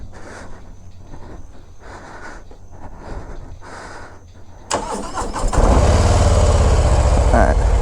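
A Harley-Davidson Low Rider ST motorcycle engine cranks and catches midway, settling into a loud, rumbling close idle after a quieter stretch with voices talking nearby.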